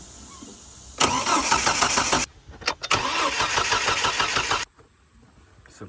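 A Hummer H3 engine cranks in two bursts of steady rhythmic starter churning, close and loud, with a short pause between them before it cuts off to quiet.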